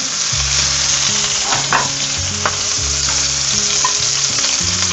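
Beef pieces searing in olive oil in a pan for an oven-baked stew, a loud, steady, close-up sizzle with faint occasional crackles, under a soft repeating music bed.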